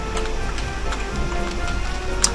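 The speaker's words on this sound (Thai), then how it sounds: "ฝนมันตกเลย" Steady rain falling in the Minecraft video game, a dense, even hiss with faint pattering ticks, continuous and fairly loud throughout, with no voices.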